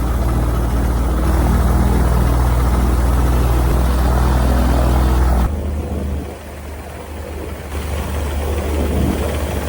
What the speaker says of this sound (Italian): Ora stiamo iniziando di mettere in rotazione il rotore